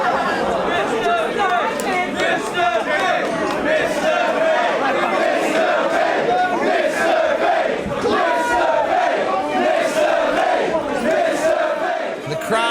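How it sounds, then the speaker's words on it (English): A wrestling crowd at a deathmatch show in Bishop Auckland chants and shouts together for a wrestler, a dense loud roar of many voices sustained throughout, with overlapping chatter. "The crowd are calling for Mr."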